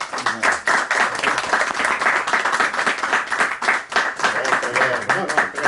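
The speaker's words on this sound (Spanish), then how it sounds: "Un fuerte aplauso para él, por favor." An audience claps steadily for award recipient David Coll at the presentation of his book "De las tinieblas y la luz"; dense, continuous applause fills the room, with voices mixed in.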